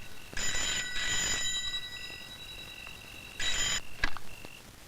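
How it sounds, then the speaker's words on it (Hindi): A telephone bell rings in two loud bursts with a pause between them, followed by a short ringing blip near the end, in an indoor scene from the Hindi film Phool Aur Angaar. "ले, आ गया तेरे बाप का फोन।"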